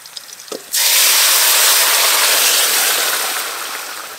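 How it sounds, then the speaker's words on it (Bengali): Boiled vegetables with their broth hit a hot pan of radhuni, bay leaf and slit green chilli tempering, bursting into a sudden loud, sustained steamy sizzle that slowly fades a little, with no talking. "সেদ্ধ করে রাখা সবজি ঝোল সমেত দিয়ে দেব"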